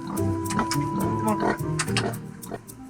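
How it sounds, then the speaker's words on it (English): Pigs oinking and grunting as a helicopter crew herds them away from a landed aircraft, repeated snorts and squeals close by, mixed with people shouting to drive them along. "Herding pigs isn't generally part of the crew's skill set, but it seems to be working"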